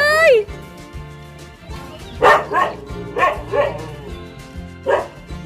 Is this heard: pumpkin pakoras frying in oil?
no